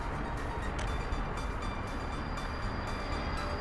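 A train in the Soviet Republic city-building game Workers & Resources rumbles along in a continuous, dense rolling noise with faint rhythmic clicks, steady and moderately loud throughout.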